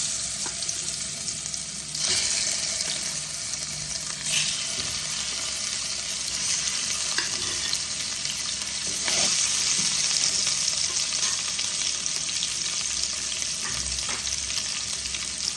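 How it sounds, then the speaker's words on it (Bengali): Pieces of hilsa fish fry in hot oil in a kadai with a steady, close, crackling sizzle that runs continuously, with occasional louder spits and stirring. "কড়াইতে তেল আমার গরম হয়ে গেছে। আমি এবার ইলিশ মাছের টুকরোগুলোকে ভেজে নেব।"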